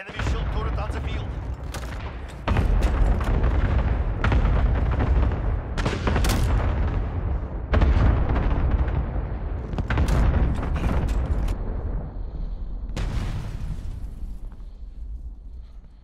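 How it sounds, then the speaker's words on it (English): Cluster strike explosions in Call of Duty: Modern Warfare, a loud rapid barrage of booming blasts and gunfire bursts hitting in clusters over sixteen seconds, with occasional voice callouts mixed into the din. "Allied cluster strike incoming"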